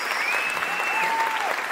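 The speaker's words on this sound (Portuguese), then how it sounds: "Uma salva de palmas pro cara" A stand-up comedy show audience bursts into steady, dense applause that fills the whole short stretch, with a faint whistle riding over it.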